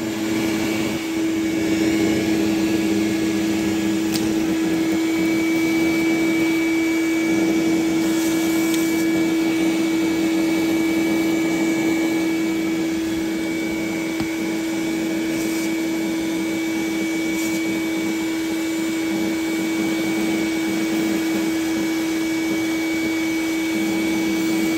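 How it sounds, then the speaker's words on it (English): A vacuum draws steadily over the condenser coil of a Tesla's air conditioning, a loud, continuous whine with a steady tonal hum that holds unbroken for the whole stretch, with no one talking. "I'm going to vacuum everything I can."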